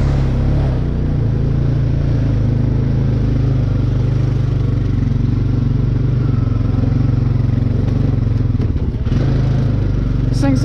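A Honda Rancher 420 ATV putters steadily in first gear while off-roading, its engine droning loud and constant throughout with a brief clatter near the end.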